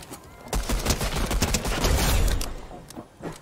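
Rapid bursts of gunfire from a shooter video game crackle in quick, irregular volleys, loud and dense through the middle before thinning out at the end, with no talking over them.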